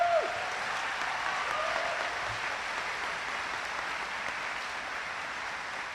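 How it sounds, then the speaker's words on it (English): Steady applause from a large audience at a high school commencement ceremony for the graduating class, a dense, even wash of clapping that holds at a constant level for about six seconds with no talk over it. "Let's hear a round of applause for the class of 2026."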